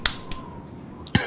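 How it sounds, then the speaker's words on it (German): A few sharp, isolated claps or snaps from the game Anno 1404 Venice, three crisp transients spread over about a second against a faint background tone. "Lass mich doch klatschen."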